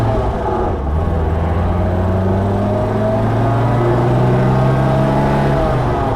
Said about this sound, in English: It revs out nicely.